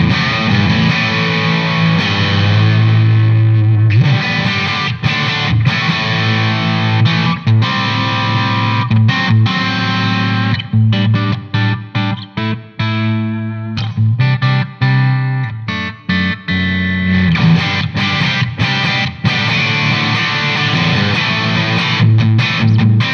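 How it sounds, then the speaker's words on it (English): Electric guitar through a Marshall Code digital amp set to a plexi tone into a greenback-loaded 4x12 cabinet with a touch of reverb, loud distorted chords and riffs ringing alone with brief choppy stops midway. "what we're going for here is a plexi, straight into a 4x12 cabinet with the greenback speakers"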